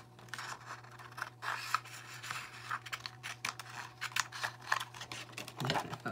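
Scissors snip and rasp through a piece of toner sheet for foiling, quiet, close, irregular cuts over a low steady hum.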